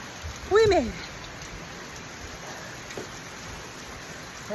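Heavy rain with large drops pours steadily as a dense, even hiss, while a brief voice rises over it near the start.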